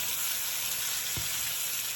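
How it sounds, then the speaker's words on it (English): Jamaican shrimp curry bubbles and sizzles loudly in a pot as a spoon gives it a stir, one dull scrape standing out against the steady frying hiss, no talking. "giving it a nice stir."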